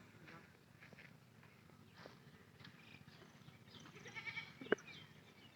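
A goat on a farm where cows are also kept bleats faintly under a steady rustling background, with one sharp close knock near the end.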